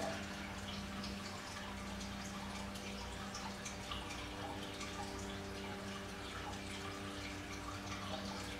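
A tap runs steadily to wet a drugstore makeup item, probably a sponge, making a continuous close hiss of flowing water with light drips and no talking.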